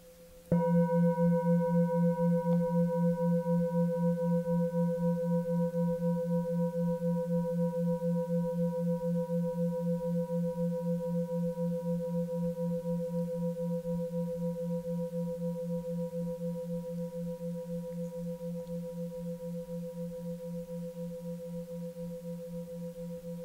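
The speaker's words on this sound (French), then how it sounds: "Et puis quand vous entendez de nouveau le son du bol" A single struck singing bowl rings out with a steady, pure sustained tone and overtones, slowly fading over a long stretch in a quiet setting with no voices.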